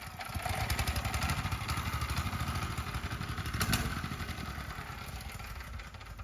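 A 6.5hp Honda gas engine mounted on a friction-drive bicycle runs nearby with a rapid, pulsing putter and clatter, its steady chugging gradually weakening as it starts to die.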